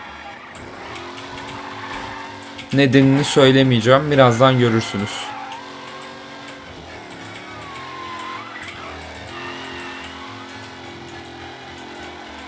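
A fast car in the game Mafia: Definitive Edition revs hard in a loud engine burst, with rising and falling gear whines, then settles into a quieter hum while someone talks over it.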